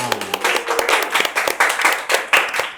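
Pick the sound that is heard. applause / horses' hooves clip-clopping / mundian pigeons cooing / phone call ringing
applause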